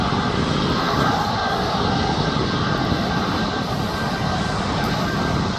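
A SunExpress airliner bound for Antalya takes off at Birmingham Airport, its jet engines producing a loud, continuous roar that holds steady across the whole stretch.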